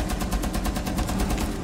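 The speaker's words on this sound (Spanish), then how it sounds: "Lo bueno de esta ametralladora es que mata muy rápido." A mounted machine gun in the video game Rainbow Six Siege fires a fast, continuous burst of sharp, evenly spaced shots, loud and close.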